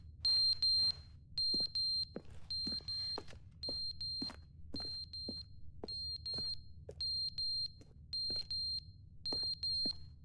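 Electronic beeping from the video game The Stanley Parable sounds in regular, evenly spaced short bursts over a faint low hum, with no other sounds around.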